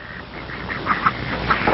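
Farm birds such as ducks and chickens call on a kibbutz, a few short clucking, quacking notes rising over a steady murmur of farmyard background, moderately near.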